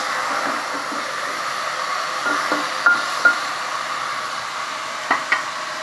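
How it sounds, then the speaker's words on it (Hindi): Marinated mutton for biryani being stirred with ginger garlic paste in a pan, a steady soft sizzle and hiss broken by a few light scrapes of the spoon. "डेढ़ 2 टीस्पून अदरक लहसुन मिलाया हमने।"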